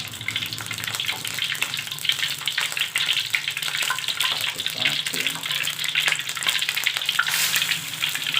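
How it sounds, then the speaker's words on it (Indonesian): Dim sum fries in hot cooking oil in a wok, a steady, close crackling sizzle that continues throughout with small pops and bursts. "Setelah minyaknya panas, lalu dimasukkan dimsum tersebut."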